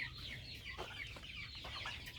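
Turkeys clucking and chattering close by in a coop, with several birds calling over one another in short, overlapping bursts.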